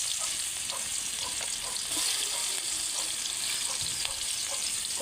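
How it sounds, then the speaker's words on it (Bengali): Sliced onions fry in hot oil in a black wok over a clay stove, giving a steady, dense sizzle that stays loud and even throughout, with faint scraping now and then. "আমি এখন এই তেলের ভিতরে পেঁয়াজ দিয়ে দিলাম।"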